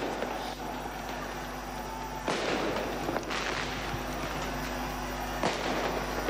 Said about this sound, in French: On voit les coups de canon qui sont en train d'être attirés.